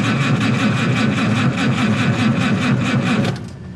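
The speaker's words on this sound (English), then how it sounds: "Let's see when I hit the starter what happens." A 1969 Oliver 1650 Industrial tractor engine with fuel trouble cranks on its starter, a loud, steady, rapid chugging rhythm that runs unbroken for a few seconds before cutting off abruptly near the end.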